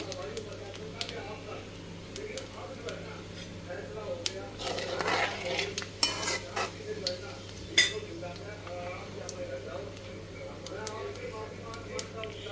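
Dried red chillies broken into three pieces are tossed into hot oil with bay leaf and stirred, giving a soft sizzle, utensil scrapes and occasional pan clinks under steady kitchen background.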